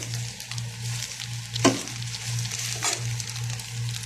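Eggs frying in a pan for a Bengali-style egg bhaji, a continuous close sizzle with a low steady hum from the stove and a couple of brief scraping stirs.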